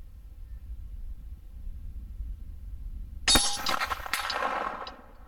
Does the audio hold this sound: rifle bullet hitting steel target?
yes